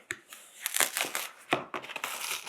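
A small parcel is ripped open by hand with no scissors or knife, giving a close, loud run of crinkling and tearing bursts of plastic and paper with sharp crackles throughout.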